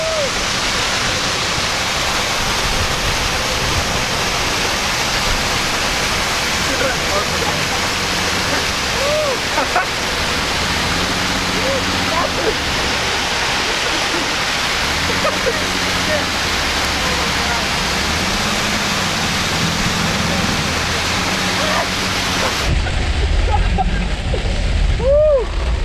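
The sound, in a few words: rain on a convertible BMW driving with the top down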